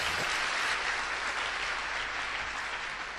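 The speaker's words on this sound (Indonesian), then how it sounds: "Beri aplaus buat istri saya" Steady audience applause fills a hall after a speaker asks the crowd to clap for his wife, a dense, even wash of many hands clapping at once for a few seconds with no voices.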